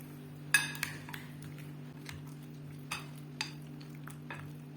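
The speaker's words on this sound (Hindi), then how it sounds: "अच्छी तरीके से मैं मिक्स करूंगी इसको ताकि सारे मसाले दही और इसके साथ चिकन के साथ मिक्स हो जाएं" Chicken being mixed by hand or spoon with yogurt and spice marinade for chicken karahi, giving a few scattered utensil clinks and soft squelchy stirring over a steady low kitchen hum, fairly quiet with no talking.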